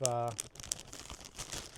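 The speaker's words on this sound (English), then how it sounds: "That's not me whistling, it's the plastic bag." A plastic bag crinkles and rustles in short bursts, opening with a brief whistle-like squeak, close and fairly quiet, with talking around it.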